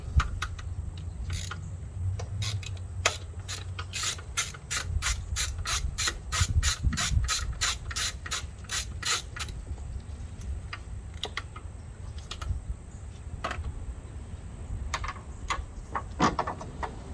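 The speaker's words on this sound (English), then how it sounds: "And now for the T30 Torx bit to get that solenoid out." A ratchet with a T30 Torx bit turns out the bolt holding the oil control valve solenoid on a Hyundai/Kia four-cylinder engine. Quick clicking runs sound close up, then give way to slower, scattered ticks.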